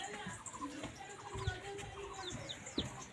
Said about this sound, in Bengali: দেখুন আমরা আবার মুরগি বাচ্চা নিয়ে এসেছি, বড় হবে।